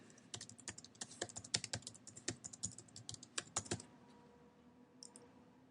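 Rapid typing on a computer keyboard while entering a search for a Chicago chiropractor, a quick uneven run of close, crisp key clicks that stops near the end, with one last brief tap after a pause.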